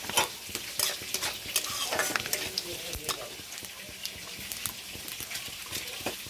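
Three dried chillies fry in hot oil in a pan, a dense crackling sizzle with sharp pops and scraping stirs, close and fairly loud with no voices.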